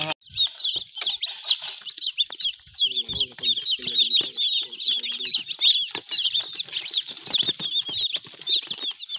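Broiler chicks and chickens cluck and cheep almost without pause, close and fairly loud, with a few wing flaps and a voice speaking briefly among them.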